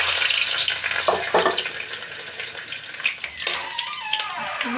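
Garlic sizzling in a hot pan already holding onion and capsicum, a steady close crackling hiss that swells briefly as it is stirred, with no talk.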